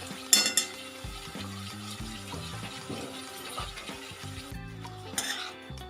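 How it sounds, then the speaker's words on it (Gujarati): A spoon stirs carrot and capsicum sabzi in a pan with a soft, continuous scraping and low sizzle, and a few brighter metal clinks near the start and end, fairly faint with no talk. "બધું મિક્સ કરી દઈશું."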